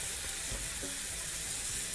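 Minced onion sautés in a pan with a close, even, continuous sizzle and faint stirring scrapes underneath, and nobody speaks.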